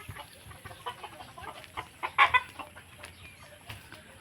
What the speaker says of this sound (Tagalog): Manok kayo dyan. Ayan yung manok.